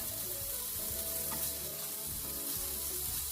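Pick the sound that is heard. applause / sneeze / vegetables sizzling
vegetables sizzling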